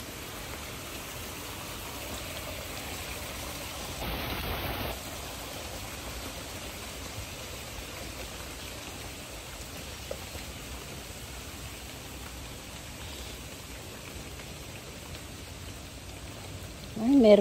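Steady rain falls near a river, a continuous even hiss throughout with a brief sharper tone partway through and a short sound at the very end.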